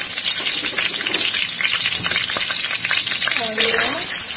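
Carrots, garlic and onion sizzle steadily in a hot frying pan, a loud, continuous frying hiss with brief stirring scrapes.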